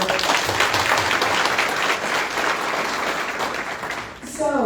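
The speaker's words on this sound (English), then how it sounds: "let's go ahead and give a round of applause just for the students being here" A round of applause for students at a scholarship luncheon, steady crowd clapping from a large audience lasting several seconds before a voice begins at the end.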